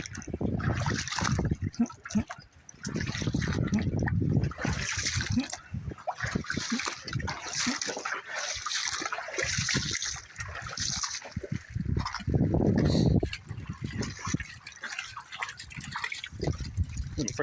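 Water sloshes and trickles steadily as someone wades through rocky outdoor pools with a dog, splashing continuing close by under frequent talking.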